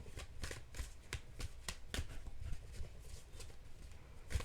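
A deck of tarot cards being shuffled up close, a run of quick papery flicks and slaps at an even pace, soft in level and without any voices.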